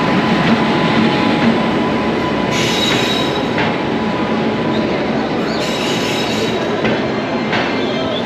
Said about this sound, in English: This is our train. Train, yes. This is the first sleeper train I've ever been on.